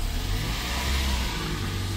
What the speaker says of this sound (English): If I step on the throttle, the engine will start.